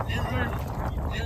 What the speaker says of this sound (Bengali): প্রচন্ড বৃষ্টি চলে আসলো, একদম মানে ঝুমঝুম করে বৃষ্টি হচ্ছে। তার মধ্যে প্রচন্ড হাওয়া